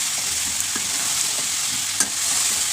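Olive pickle with panch phoron being stirred in a pan, a steady close sizzle with a few sharp spoon scrapes and clinks against the metal, no voices.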